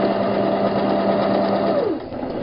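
Sewing machine stitching a seam on a fabric tote bag, a loud, close, continuous motor whir with rapid needle chatter that slows and drops in pitch at the end.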